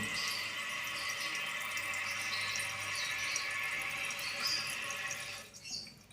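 Water runs steadily into a toilet tank, a constant hissing trickle that holds for several seconds before tapering off near the end.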